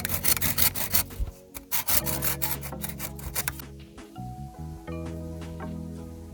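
Bamboo being cut by hand for cooking shrimp with green mango: rhythmic rasping saw strokes, close and fairly loud, thin out toward the end.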